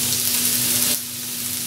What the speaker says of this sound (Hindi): हम इसमें सारा कीमा डालेंगे और इसको 2-1 मिनट के लिए पहले फ्राई करेंगे।